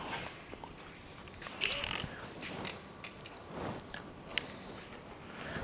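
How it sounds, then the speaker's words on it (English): A ratchet wrench works small head bolts loose during an engine teardown on a Hemi tow truck, giving faint, quick clicking ratchet bursts and metallic scrapes at close range, with no talk. "we'll rip those small head bolts out first"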